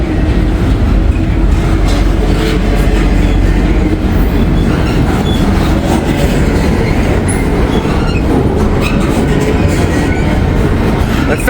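Freight train rolling past for the whole stretch, a steady loud rumble with wheel clatter and occasional faint squeal, close by and without voices.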